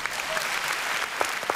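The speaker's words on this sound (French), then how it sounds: "Là, on sent des applaudissements nourris" An audience at a French television show applauds steadily, a dense, warm wash of clapping that holds throughout at an even level.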